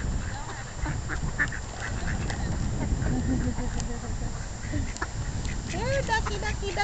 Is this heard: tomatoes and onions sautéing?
no